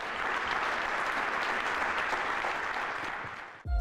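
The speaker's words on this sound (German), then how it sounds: "Beifall für die Aufführung, aber auch für die WAA-Gegner von damals." A theatre audience applauds loudly in a dense, sustained roar of clapping that fades a little toward the end before an abrupt cut.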